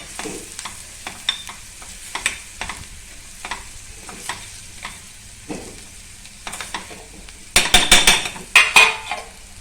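Bitter gourd being sautéed in a pan with a spoon, scattered scraping stirs and soft sizzling, then a burst of louder, quick clattering scrapes near the end.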